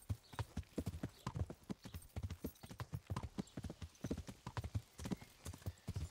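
Rapid, rhythmic clip-clop of horse hooves at a trot in Kingdom Come: Deliverance, close and steady throughout with a faint snort now and then.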